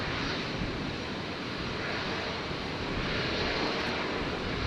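A Qantas Boeing 737-800 arriving on runway 01 right at Brisbane International Airport gives a steady, loud broadband jet roar that holds evenly through the whole stretch with no voices.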